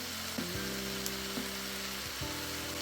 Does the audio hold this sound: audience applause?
no